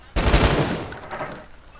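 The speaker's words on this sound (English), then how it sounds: "He landed those shots." A loud burst of rapid gunfire in a video game firefight, starting abruptly and decaying into a rumbling tail over about a second and a half.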